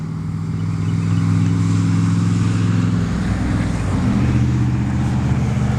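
A street-legal KTM Enduro motorcycle fitted with working blinkers, headlight and tail light runs its engine close by, a loud steady drone whose pitch shifts partway through.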